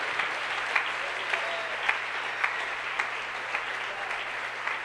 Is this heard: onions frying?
no